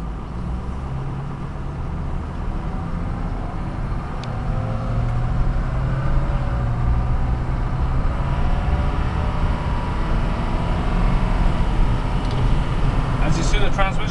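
A 2006 Ford F250 crew cab short-box Power Stroke turbo diesel pickup drives along with a steady, fairly loud engine and road drone that builds slightly over time, and a voice talks over it.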